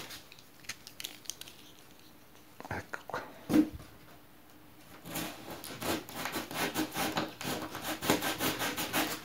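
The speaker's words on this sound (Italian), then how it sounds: "a segare, non tagliare proprio, come se stessi facendo con la sega." A handsaw cutting through a roller shutter box, with slow irregular rasping strokes at first that build into a quicker, steady back-and-forth sawing rhythm, close up and fairly quiet with no talking.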